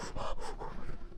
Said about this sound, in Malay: Sebab tempat sejuk ni akan mengah bila berjalan